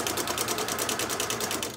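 A sewing machine stitches bias binding onto fabric with a quick, regular mechanical clatter, close and even throughout the short stretch before it slows at the end.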